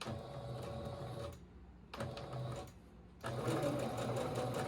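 A sewing machine back-stitching a thrifted garment, its steady close mechanical whir running in bursts that pause twice before resuming louder.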